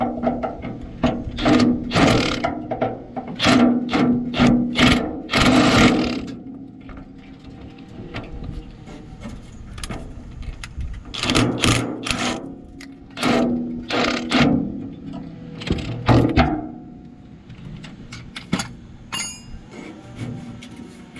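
A truck tailgate being bolted back on, with bursts of loud ratcheting and mechanical clicking separated by quieter pauses, close by and with no speech.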